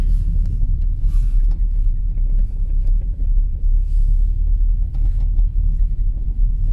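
A car rumbles with a loud, steady low engine drone and wind buffeting while turning around and driving back along a dead-end track in a stone quarry.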